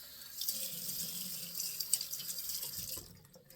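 A bathroom tap runs steadily into a sink for a few seconds while someone wets their face during a wet shave, close and hissing, then cuts off with a couple of small splashes.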